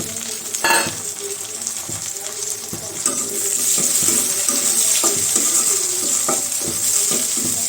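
Tomatoes for a meat curry fry in a pan, a close steady sizzle with scattered clinks and stirring scrapes that grows fuller partway through.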